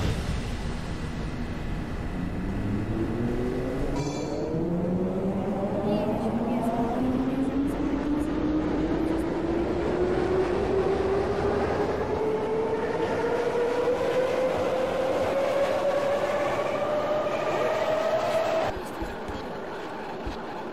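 A Moscow metro train in Minecraft runs from Kurskaya toward Rizhskaya, its traction motor whine climbing steadily in pitch over a constant rolling rumble before cutting off near the end.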